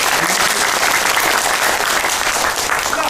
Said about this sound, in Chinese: 掌声再一次